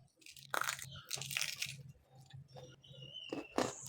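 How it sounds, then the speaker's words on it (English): Crunchy golden spicy lemon potato crisps being crunched, several sharp crackly bursts over a steady low hum, close and fairly loud, no talk. "Beautiful, golden, crunchy, spicy lemon potato crisp."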